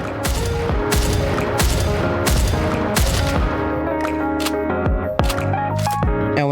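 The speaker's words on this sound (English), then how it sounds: "And then of course her shooting animations." Repeated loud gunshots from Trina's shooting animations in the mobile game NIKKE (Goddess of Victory), firing in a steady rhythm of sharp, punchy blasts over a continuous bed of game music.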